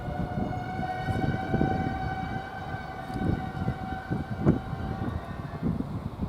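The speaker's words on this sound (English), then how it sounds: "Squeaky brake time." Train brakes squealing as a West Midlands Railway class 196 unit stands at Coventry railway station, several steady high-pitched tones holding over rumbling low station and engine noise throughout.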